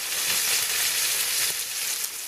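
Ostrich steaks coated in spices searing in a hot pan, a steady close hiss of sizzling fat with no pauses.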